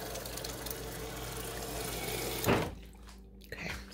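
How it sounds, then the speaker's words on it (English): Water poured into a blender jar holding strawberries and ice, a steady rushing fill for about two and a half seconds that cuts off, followed by a brief clink near the end. "I think I'm going to put some water"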